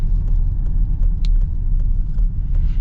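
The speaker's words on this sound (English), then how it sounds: "Look at our acceleration with the Explorer." A 2023 Ford Explorer ST accelerating in sport mode, heard from inside as a deep, steady engine and road rumble with light ticks and rattles above it.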